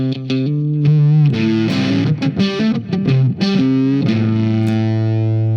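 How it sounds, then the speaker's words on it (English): Electric guitar played through a single fuzz pedal, thick distorted sustained chords and a busy run of picked notes in the middle, then ringing held chords again, loud and close with no talking. "you can pretty much play a full set of clean and distortion tones with just one fuzz pedal"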